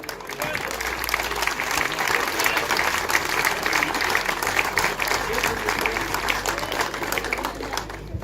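Continuous applause from the audience at a youth sand-yachting championship prize-giving fills the whole stretch, a thick even wash of many hands clapping at steady volume.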